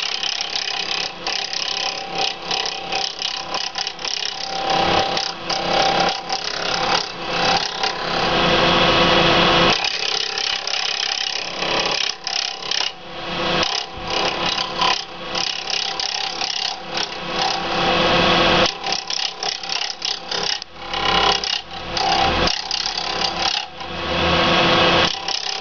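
A sharp tool turns a cast pen blank on a lathe, giving a continuous loud rasping and whirring of cutting that surges and dips with each pass of the tool.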